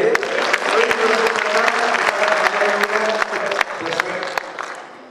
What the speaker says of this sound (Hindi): एक बार मेरे लिए ताली बजाइए।